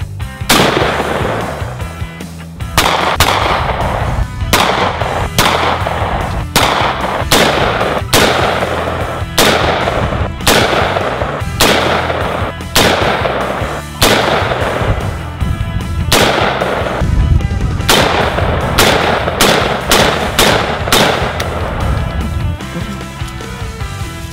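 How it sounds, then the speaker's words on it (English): 5.56 rifle rounds are fired at an AR500 steel body armor plate, a long series of loud, sharp gunshots spaced irregularly, each crack ringing briefly before the next, with no voices. "We're just gonna keep shooting at it until it goes through, or until we're done having fun."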